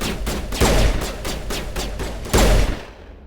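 Rapid bursts of video game gunfire from Mass Effect crack out in a steady run of close shots, with two heavier, louder blasts standing out among them.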